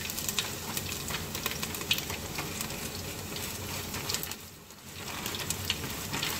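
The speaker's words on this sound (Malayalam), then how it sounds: "നമുക്ക് അതിനകത്തേക്ക് അരിഞ്ഞു വെച്ചിരിക്കുന്ന സവാളയുടെ ഒരു കുറച്ച് ഒന്ന് മൂപ്പിക്കാൻ ഇട്ട് കൊടുക്കാം" Sliced onions fry with mustard seeds in hot oil for mutton curry, making a dense, continuous hiss and crackle up close. It dips briefly before the sizzle swells back.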